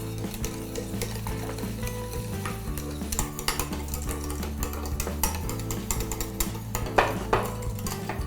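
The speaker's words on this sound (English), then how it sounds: "We will cook this on low heat, stirring it constantly." Dulce de leche pudding stirred constantly in a pan over low heat, a continuous soft bubbling sizzle broken by frequent spoon scrapes and light clinks against the metal, close and steady, with no voices.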